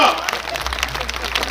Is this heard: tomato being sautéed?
no